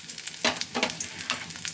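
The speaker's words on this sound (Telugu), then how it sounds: "ముందుగా నూనె బాగా కాగింది కాబట్టి ఎల్లుల్లిపాయలు వేసేద్దాం" Garlic sizzling in hot oil in a kadai for a tempering, a steady bright crackle with a few louder bursts of stirring and spatter.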